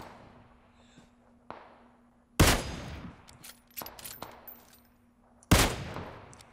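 PUBG Mobile gunfire rings out as two loud, sharp rifle cracks spaced a few seconds apart. Quieter distant shots and impacts fall in between over a near-silent background.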